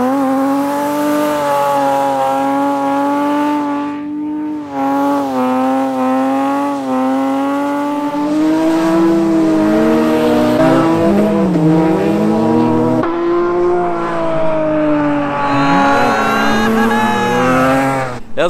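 A Toyota Supra drifting on ice in Sweden revs loudly, its engine note rising and falling in long sweeps as it slides and slowly spins out, with brief lulls between bursts.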